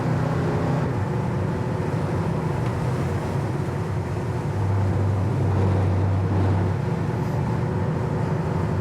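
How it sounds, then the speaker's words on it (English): A 1971 Ford Torino GT idles with a low, steady rumble and a constant hum, a brief tonal change midway marking a gear shift, heard close with no talk. "And also the idle's really nice. Nice shift there in a second."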